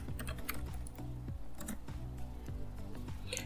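Rapid clicking keystrokes on a computer keyboard as a terminal command is typed, steady irregular taps close up with no talking.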